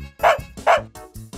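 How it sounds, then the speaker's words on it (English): Two sharp woofs from a dog ring out close and loud, evenly spaced about half a second apart, followed by a couple of quieter yappy notes in a children's animal-sounds lesson. "A dog makes a woof sound."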